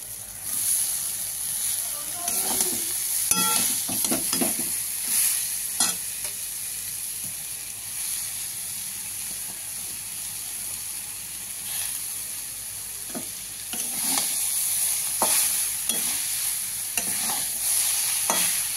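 Grated taro stir-fried in a pan for maan kochu bharta, with a steady sizzle and hiss running throughout and intermittent scraping strokes of a spatula, close and continuous.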